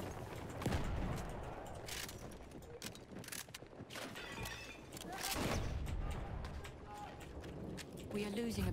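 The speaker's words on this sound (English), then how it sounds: "These guys are tossing nades all over the place, man." Grenades exploding in Battlefield 1 multiplayer, several sharp blasts and crackling gunfire amid a busy battlefield din, with players talking over the action.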